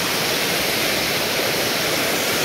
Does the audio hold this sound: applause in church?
no